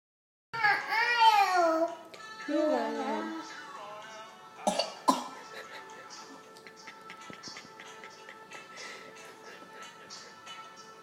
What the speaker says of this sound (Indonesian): Tuh, batuknya sampai kayak gitu.